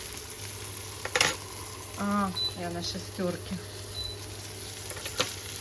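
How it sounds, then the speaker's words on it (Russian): Meat cutlets frying in a pan, with a steady sizzle running under a woman's speech and a few clinks of stirring. "Сегодня разморозила. Дождалась, пока дадут свет. И начала жарить."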